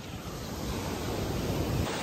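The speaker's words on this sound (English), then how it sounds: "from the storm yesterday, there's so many waves" Ocean surf rolls onto a Florida beach the day after a storm, a dense, steady roar of breaking waves mixed with wind buffeting the microphone, with no one talking.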